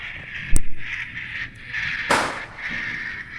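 Firecrackers set off at a Diwali celebration give two sharp, separate bangs a moment apart, loud against a steady background hum with no talking.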